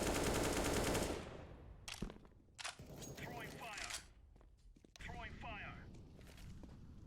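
Rapid automatic gunfire sprays in Counter-Strike on the Mirage map, a dense loud burst at the start followed by scattered shots and footsteps while a player talks quietly over it.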